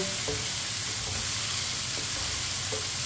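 Tomato and onion fry in a pan for a bhindi dish, giving a steady, close sizzle with faint stirring scrapes running continuously throughout.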